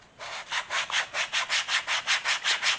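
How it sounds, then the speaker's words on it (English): Steady back-and-forth rasping of hand sanding the edge of a kukri sheath, about a dozen even strokes in a regular rhythm, close and clear with no talking. "as you continue sanding"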